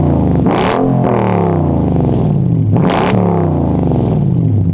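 A Mercedes E550 Coupe V8 revs hard twice, each run climbing sharply in pitch with a loud, close roar before dropping back to a rumbling idle and rising again.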